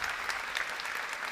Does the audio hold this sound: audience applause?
yes